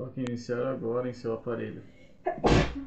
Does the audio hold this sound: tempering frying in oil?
no